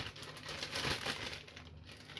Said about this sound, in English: So all you do is you get yourself a clean plastic bag